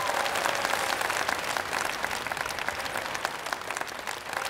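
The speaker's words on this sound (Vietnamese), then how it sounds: "Một tràng pháo tay thật to nữa dành cho cặp đôi này thưa quý vị" Audience applause for a performing pair on a televised children's celebrity impersonation show, a dense steady wash of many hands clapping close and loud, alone without talk for several seconds.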